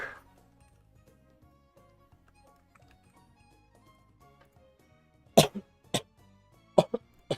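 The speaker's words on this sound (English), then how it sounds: "Sorry, I had to cough." A person coughs several times in short, sharp bursts near the end, loud and close after a mostly quiet stretch with faint background sound.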